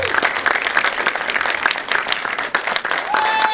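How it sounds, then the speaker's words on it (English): Loud audience applause at an award night, dense continuous clapping from a crowd with a few whoops and whistles rising above it. "Keep the applause going."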